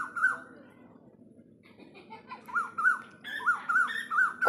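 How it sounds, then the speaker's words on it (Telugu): A young koel calls from the trees in short repeated rising notes, which grow more frequent and louder toward the end over a faint background. "కోకిలండి, కోకిల"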